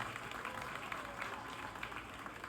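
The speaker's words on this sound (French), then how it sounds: "Ça mérite d'être applaudi encore" Applause from an audience at a factory inauguration, a continuous wash of many hands clapping, steady and very faint as though heard from a distance.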